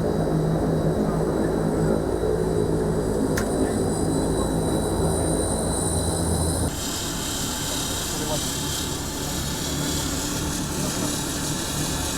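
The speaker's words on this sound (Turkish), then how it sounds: "Ukrayna'dan gelen Antonov 32P tipi yangın söndürme uçağı ile şu an Antalya Havalimanı'ndan havalanıyoruz." Steady loud roar of an Antonov An-32P firefighting aircraft's propeller engines taking off from Antalya Airport, building in intensity and shifting in tone partway through, with a voice speaking over the engine noise.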